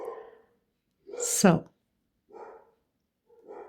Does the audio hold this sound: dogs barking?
yes